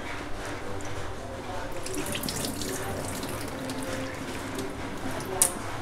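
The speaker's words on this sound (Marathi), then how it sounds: "असे धुवून ठेवते" Sago pearls washed under a running kitchen tap, a steady close rush of water into a sink with a brief splash near the end, no talk.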